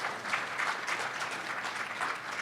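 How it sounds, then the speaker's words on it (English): An audience claps in steady, even applause for a couple of seconds, heard at moderate distance with no talking over it. "let's have a round of applause for that"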